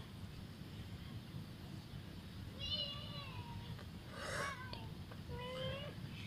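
A cat on an outdoor walk near a tree gives a few short, high meows, fairly faint, over steady wind and outdoor rumble.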